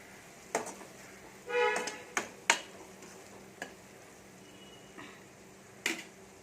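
A spoon stirs fish curry in a pan: sparse, faint scraping ticks and clinks at irregular intervals over a low sizzle, with a short louder scrape partway through and no talking.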